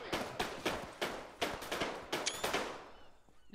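Gunfire in a military video game, a steady run of sharp, evenly spaced single shots at moderate distance, about a dozen cracks before trailing off.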